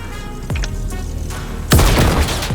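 A grenade blast and gunfire ring out in a first-person shooter: a sharp shot early on, then a loud booming explosion with a rattling burst of fire that swells and lingers near the end.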